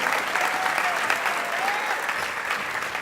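Steady applause from the audience at a high school band spring concert, a continuous wash of many hands clapping throughout, fairly even and moderately loud in the hall.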